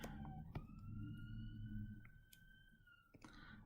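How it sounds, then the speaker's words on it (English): Sirens outside wail faintly in the distance, two steady rising tones holding for a few seconds behind a quiet room where classical music is being composed. "Please excuse the sirens."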